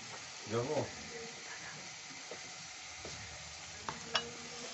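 Ginger paste hits a hot frying pan for an egg bhujia curry, giving a brief burst of sizzling and stirring near the start, then quieter frying crackle with a few sharp utensil clinks.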